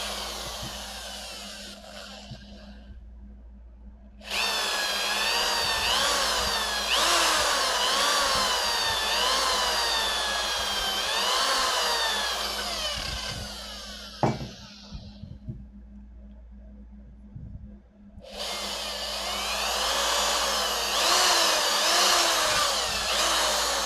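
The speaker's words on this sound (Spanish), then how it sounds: "aquí debo de hacer las perforaciones en el centro para cruzar unos tornillos de 3 a 5 milímetros de diámetro" A power drill boring holes through a homemade TV antenna for 3–5 mm screws: a loud, close, whining run with rising and falling pitch, a pause with a sharp knock, then the drill starting again.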